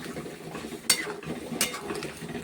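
Jackfruit cooking with moong dal in a pan, with two sharp utensil scrapes against the pan over a low background sizzle, close and brief.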